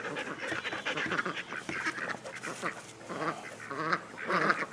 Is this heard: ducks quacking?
yes